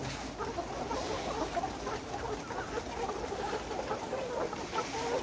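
Nourish Sonali-cross layer hens, about 118 days old, kept in cages, clucking continuously as a dense flock under steady farm-shed background noise, with no voices.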